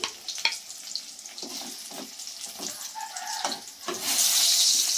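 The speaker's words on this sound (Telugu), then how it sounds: "ఇలా వేగిపోవాలండి ఆయిల్లోనే." Brinjals (vankaya) frying in oil in a pan, a hissing, bubbling sizzle with soft clinks of stirring, growing into a louder, bright spitting hiss near the end, with no talking.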